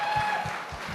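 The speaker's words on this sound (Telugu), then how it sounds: "ఒక్కసారి మనం అందరూ ఆ సినిమాకి తప్పకుండా క్లాప్ చేయాలి" Audience applause for a film at a pre-release event, crowd clapping in a rough, continuous patter, moderately loud, with faint voices under it.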